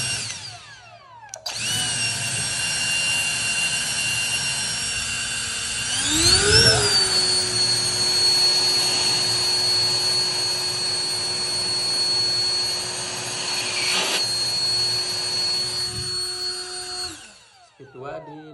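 A Jet Fan Turbo LXT blower with a nozzle runs at speed 1, the lowest of its four settings: a loud, close, steady whine and rush of air that briefly surges in pitch partway through, then cuts off near the end.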